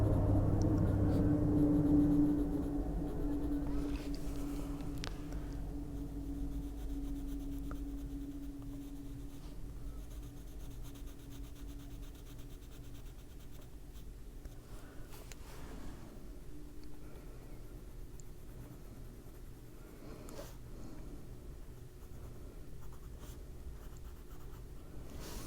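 Coloring pencil steadily darkening lines on paper on a sleigh coloring page, a faint continuous scratching up close that persists with small pauses over a long stretch, no voices.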